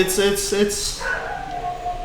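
A neighbour's dogs bark and yip in a short burst of several sharp calls, fairly close, with people talking over and around them.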